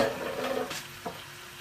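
Pork dropped back into a pan for a stir fry with baby bok choy, a loud sizzle that swells then fades, with a stirring scrape and a short clatter of utensil against the pan.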